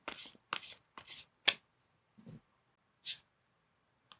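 Tarot cards are shuffled in several quick, crisp riffles and flicks separated by short pauses, close and fairly quiet in an otherwise silent room.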